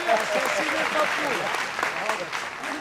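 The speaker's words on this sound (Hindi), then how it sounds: "एक बार तालियां बजा दीजिए" An audience at a televised political talk show claps enthusiastically, a dense burst of applause lasting a few seconds with voices mixed in.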